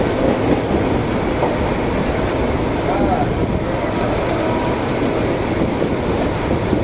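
A loud, continuous rumble and rattle of slow local trains rolling past close by in Mumbai, steady throughout with a faint squeal of wheels.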